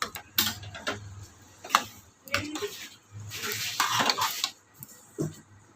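Jaggery stirred and melting in a hot pan for puran, heard as scraping spoon strokes against the pan with light sizzling and occasional metallic clinks, close and moderately loud, no talk.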